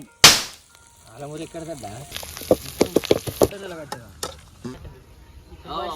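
Green chillies tipped into a hot frying pan for spicy butter chicken, giving a sudden loud splash of sizzling followed by stirring clatter and crackling, with someone talking over it.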